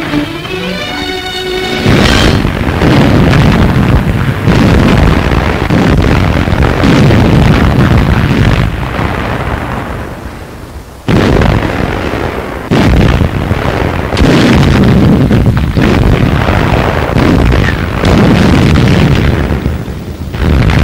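Artillery shelling explosions in WWII Normandy battle footage: loud, dense booming blasts that roll on almost continuously after a short quieter opening, with a brief drop midway before the heavy rumbling resumes.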